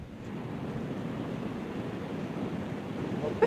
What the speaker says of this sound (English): I can really feel the wind changing now.